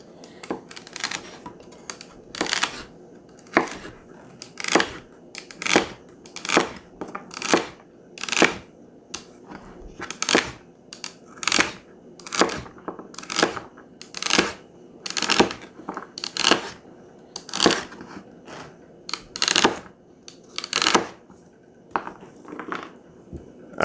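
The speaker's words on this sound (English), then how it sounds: "Now, celery is a little tougher to chop," A Misen chef's knife chops celery on a cutting board in a steady run of about thirty crisp, sharp knocks, close and even-paced with brief gaps between strokes.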